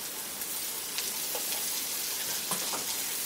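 Onion frying in a pan after boiled teasel gourd pulp and seeds are added, giving a steady, close sizzle with a few faint clicks and stirring scrapes and no voices.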